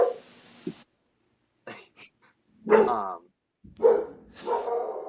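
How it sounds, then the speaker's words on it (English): Several dogs bark in short separate bursts, some sharp and some with a growling edge, heard fairly close with silent gaps between the barks. "All the dogs are coming out today, apparently."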